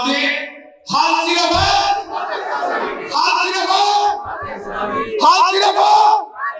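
A crowd of young people at a Jamaat-e-Islami gathering in Mansoora, Lahore, shouts slogan responses in loud, repeated bursts, swelling and fading in waves.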